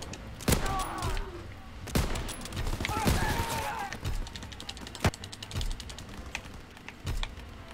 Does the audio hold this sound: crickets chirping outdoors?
no